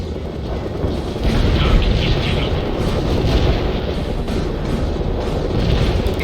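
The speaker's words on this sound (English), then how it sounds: "Incendiary bomb performing above expectations." An incendiary bomb in the World in Conflict strategy game sets off a sustained, heavy rumbling roar. The deep, loud blast and fire noise runs steadily for several seconds with no talk over it.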